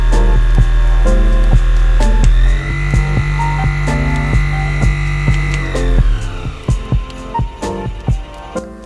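Electric facial massager with a brush head attached, running with a steady tonal motor hum and throbbing pulse that shifts in pitch partway through, then breaks into uneven pulsing bursts toward the end.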